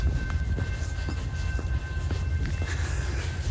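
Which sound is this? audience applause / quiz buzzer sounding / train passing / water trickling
train passing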